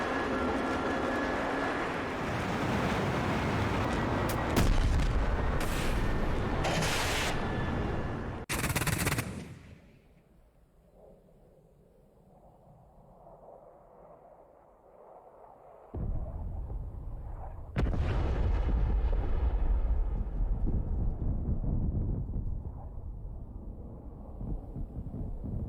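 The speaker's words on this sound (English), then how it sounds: "one F-104 was shot down by anti-aircraft guns" Anti-aircraft guns fire at an F-104 fighter during the 1971 Pakistan air strikes: loud rattling bursts and blasts, then a quieter lull, then heavy firing starts again.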